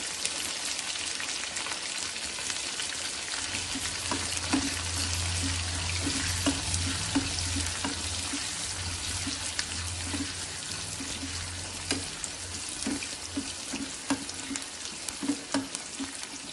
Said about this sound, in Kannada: 1 ಈರುಳ್ಳಿ ಒಗ್ಗರಣೆಗೆ ಹಾಕೊತಾ ಇದ್ದೀನಿ.